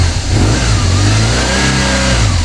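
A car engine that had sat unused for over a year revs loudly under the throttle, a steady low rumble rising and falling close by with no talking.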